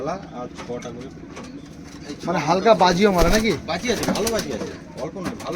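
Giribaz pigeons in a loft in Katowa, Bardhaman, give soft cooing and rustling amid close conversation between people, the birds' low calls and wing stirrings blending under the talk.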